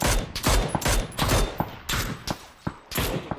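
Rapid rifle fire crackles in the military shooter game Squad, with about a dozen loud, sharp bursts and single shots spread unevenly across the clip and no talking.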